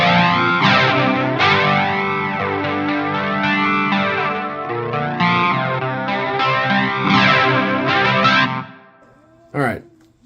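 Distorted electric guitar through a Headrush MX5 drive preset with tape echo, playing sustained chords and bending melodic lines at steady loudness, then stopping before a short final burst near the end.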